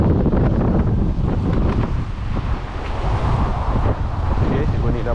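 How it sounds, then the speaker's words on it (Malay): Strong wind at sea under a bridge roars steadily and loudly across the microphone, a constant rumbling buffet with faint water movement beneath it. "Angin kuat gila jalan."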